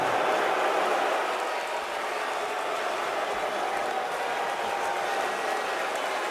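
A big arena crowd at the 2011 NBA Draft reacts to the New York Knicks picking Iman Shumpert, a sustained roar of voices and scattered clapping that holds at a steady level throughout.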